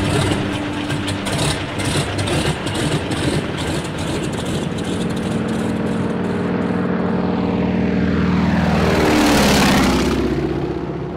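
A propeller airplane drones steadily in flight at night, crossing the ocean with a tailwind, its engine tone loud and continuous and rising to a close, brighter roar near the end.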